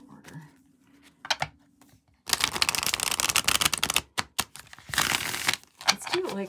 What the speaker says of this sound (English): Need to shuffle it a few more times since it is in order.